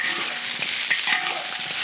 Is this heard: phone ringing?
no